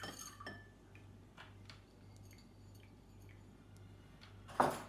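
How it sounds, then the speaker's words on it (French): Small pebbles dropped into a glass of water, giving faint scattered clinks and ticks against the glass and ending in one sharper clink; quiet and close, no speech. "Je les mets dans le verre."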